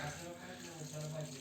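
Water circulating through heating pipes in a house boiler room just after the pump starts, heard as a faint, steady rushing hiss with a low hum underneath, continuous and unbroken.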